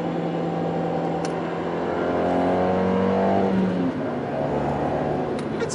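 The engine of a Fiat 124 Spider Abarth sports car droning and revving during a drive on an autumn day, with a steady mid-pitched tone that rises and then eases off, heard up close.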